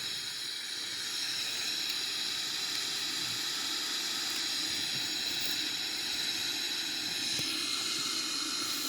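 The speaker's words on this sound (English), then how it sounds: "So the engines are start." Jet engines of a Boeing 777-300ER spooling up during start, giving a steady broadband roar and hiss with high whine that holds at a constant level throughout, with no voices.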